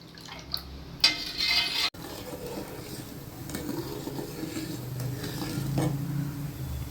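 Senna alata juice and oil simmering in a pan over low heat, with a spoon stirring through it: a soft, steady bubbling hiss with occasional scraping clinks, no talking.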